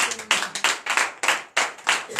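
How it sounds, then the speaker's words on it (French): Rhythmic group clapping from a church congregation at a night prayer service in Benin, bursts of claps in a quick repeating pattern, fairly close and alone without talk. "Donnez l'acclamation au Seigneur."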